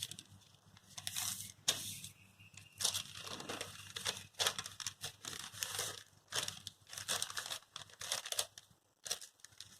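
Newspaper sheets being folded into three equal parts, giving repeated crinkling and crumpling rustles in short bursts, close and fairly clear, with no talking.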